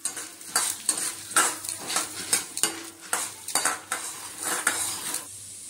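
Black soybeans (bhatt) roast quickly in hot oil in a pan for a Pahadi churkani, with a steady run of brisk scraping stirs over a continuous crackling sizzle, close and fairly loud.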